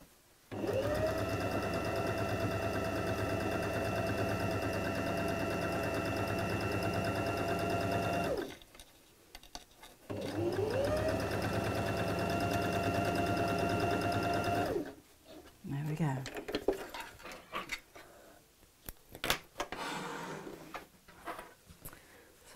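A sewing machine stitches a zipped folder in two long steady runs with a short pause between, followed by quieter handling noises and a few soft clicks.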